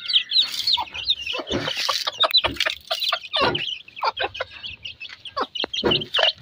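Native country chickens cluck and chirp close by in a busy, irregular stream of short calls, with no one talking.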